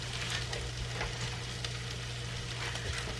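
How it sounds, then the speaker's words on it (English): Sausage fries in a pan with a constant soft sizzle as onions and garlic go in, and a low hum sits under the crackle. The sound stays faint and close. "So now I'm going to go in and add our onions and garlic."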